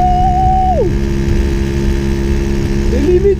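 A 1977 Motobécane M7 moped on its original exhaust, loud and close, with the engine dropping from a high rev to a buzzing idle and then rising in pitch again near the end.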